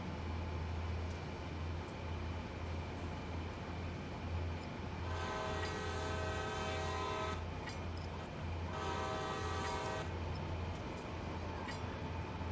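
A video game train in Train Sim World rumbles steadily with a low engine drone, and its horn sounds twice in long harmonic blasts, each lasting a couple of seconds.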